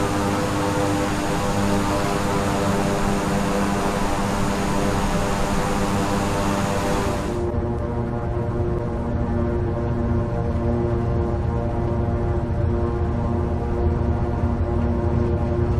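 A King Air turboprop taxis briskly in a flight simulator, its engine a loud, steady droning hum with a bright hiss that cuts off partway, leaving a constant lower propeller drone throughout.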